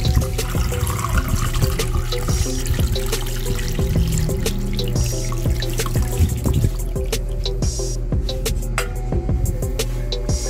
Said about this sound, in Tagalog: lalagay na natin yung ating tinimpla kanina na pang marinade